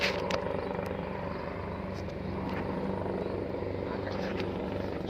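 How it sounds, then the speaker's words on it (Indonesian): A helicopter's steady rotor drone fills the whole stretch, loud and continuous, with faint noises flickering over it. "Kita lihat helikopter juga, Mori."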